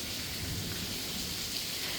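Steady rain falls outside a house, a continuous dense hiss of drops heard from indoors with no break or voices.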